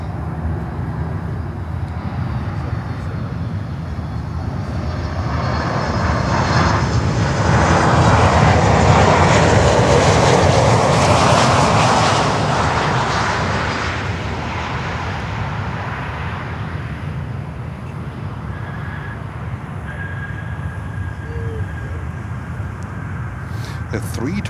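A United airliner comes in to land at Miami airport, its broad engine roar swelling to a peak midway and then fading, with people talking nearby throughout.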